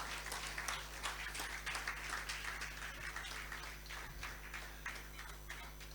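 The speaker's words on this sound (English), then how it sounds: "I think our guest speaker actually deserves another and a better round of applause." A round of applause at a corporate directors' fellows luncheon for the guest speaker, steady moderately quiet clapping from a seated crowd lasting throughout.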